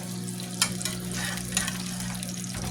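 Beef burger patties fry over low heat in a non-stick pan, a steady soft sizzle and crackle running throughout with a couple of brief louder spits, close by and with no voices.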